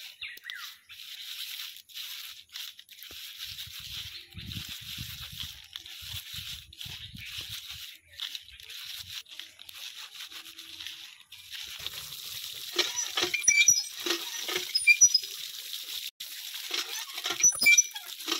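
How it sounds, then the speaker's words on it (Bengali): Small fish being rubbed by hand with salt to loosen their tiny scales, soft wet crackly rubbing and pattering close up, faint at first and growing busier and louder toward the end. "এবার এর মধ্যে একটু লবণ দিয়ে ডলে নেব, তাহলে গায়ের যে ছোট ছোট আঁশ আছে ছেড়ে যাবে।"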